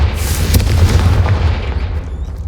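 A Confringo fire spell explodes in Hogwarts Legacy with a loud, deep boom that rumbles on, then slowly fades over a couple of seconds.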